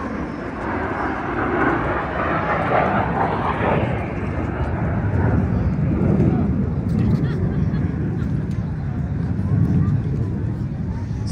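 Jet aircraft flying over a US air base, a loud, broad engine roar that swells and holds steady for several seconds, heard alone without talk.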